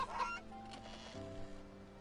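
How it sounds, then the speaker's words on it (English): An angry goose in the video game Wytchwood gives a short, sharp honk near the start, backed by steady game music. "There's an angry goose. Perhaps the nastiest of birds."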